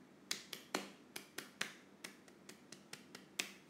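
Sharp, close clapping in the Pramuka scout rhythmic pattern, about a dozen quick crisp claps at uneven intervals, alone with no voices.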